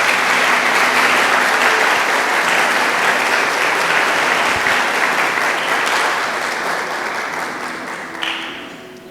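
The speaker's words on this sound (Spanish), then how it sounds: "Les damos un fuerte aplauso a todos los que vienen por primera vez." Loud, dense applause from a church congregation welcoming first-time visitors, continuous clapping that gradually eases off over several seconds.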